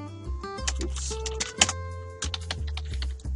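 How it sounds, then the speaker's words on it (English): Computer keyboard keys tapped in quick irregular bursts, close and clear, against a low steady hum, with no one talking. "you have to manually type it"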